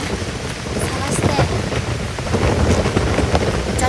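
Steady rain falls on a gravel campsite during a solo camping trip, a dense continuous hiss with wind buffeting the microphone and no voices.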